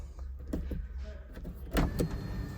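A Honda e:NP2 electric car's power window runs with a soft motor hum inside the cabin, punctuated by faint clicks and a firmer thump as the glass seats, fairly quiet and close.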